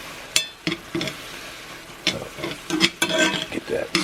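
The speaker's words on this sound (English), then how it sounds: "Get that stirred around." Chicken stock stirred in a hot cast iron pan, a utensil scraping and clinking against the iron in irregular bursts over a steady sizzle, loud and close.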